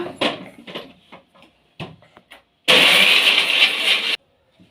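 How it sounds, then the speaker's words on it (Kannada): A mixer grinder blending mango, pineapple, sugar, lemon juice and ice cubes, preceded by a few scattered knocks and clicks, then roaring loudly and steadily for about a second and a half before cutting off abruptly. "ಮಿಕ್ಸಿನ ರುಬ್ಕೊಳ್ಳೋಣ"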